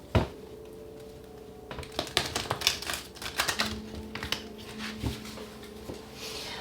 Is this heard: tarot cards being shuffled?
yes